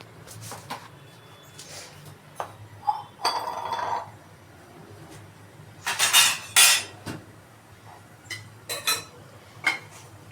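Mustard seeds go into a pan as tempering for tomato rasam, with metallic clinks and knocks of utensils and a few sharp sizzling bursts, close up, scattered across the stretch.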